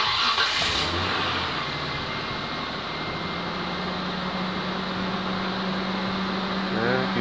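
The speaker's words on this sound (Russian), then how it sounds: "Давайте запустим автомобиль" A Mitsubishi Pajero Sport engine idles steadily after starting, with four-wheel drive engaged and a suspected transfer case noise, a constant close rumble with a faint whine over several seconds.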